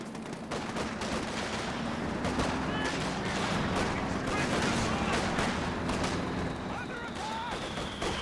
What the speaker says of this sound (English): Nice walking Stuka barrages from Deliri0us.